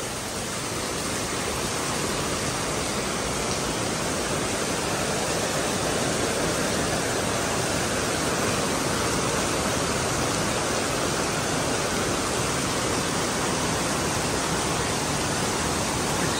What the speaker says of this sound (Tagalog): Kaya lang ang lakas ng ulan.